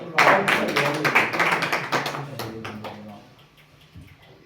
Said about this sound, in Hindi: एक जोरदार तालियों से आवाज लगाइए मेरे छोटे भाई अल्तमस इरफान साहब को।